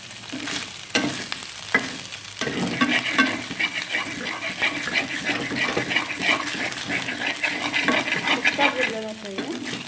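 Whole cloves and cardamom pods frying in hot oil in a pan for chicken fry, with a steady loud sizzle and crackle, some stirring clatter and scraping of a utensil near the start.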